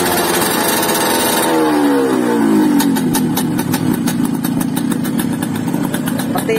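A Yamaha RX King two-stroke motorcycle with overly extreme porting runs loudly up close, its engine lightly revved and then settling into a rough, rapid idle with a sputtering, rattly pulse.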